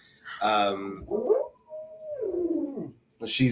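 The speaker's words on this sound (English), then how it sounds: "my dog Sophia is getting mad at me about it" A dog whines and yips up close in a short agitated burst, its voice rising into drawn-out, howl-like cries with brief pauses between them.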